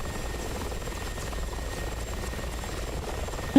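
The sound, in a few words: helicopter in DCS World video game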